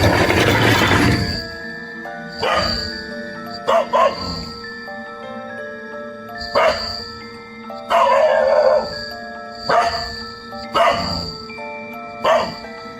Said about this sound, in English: His neighbor's pet dog suddenly came in front of his house and started barking aggressively.